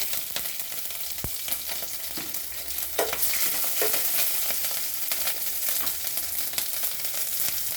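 Mustard seeds and dried red chilli fry in hot oil with a steady, close sizzle and crackle, with occasional stirring scrapes and faint pops over the constant frying noise.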